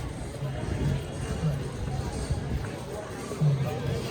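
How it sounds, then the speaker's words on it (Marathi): A large crowd mills around Jagannath temple in Puri, a steady hubbub of many voices and footsteps filling the space without pause. "खूप गर्दी पण खूप आहे."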